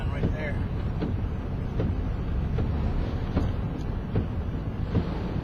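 Strong hurricane wind gusts during Hurricane Florence roar steadily and close to the microphone, buffeting it with rough low rumble and recurring surges, with no talk in the moment.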